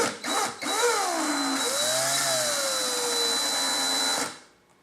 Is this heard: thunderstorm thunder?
no